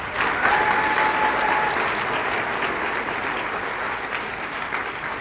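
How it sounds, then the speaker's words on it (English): Sustained applause from an audience honoring award winners at a formal State Department ceremony on artificial intelligence, a dense, steady clapping that holds at full strength for several seconds without tapering. "So that was a round of applause for all of our winners"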